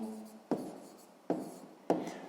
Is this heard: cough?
no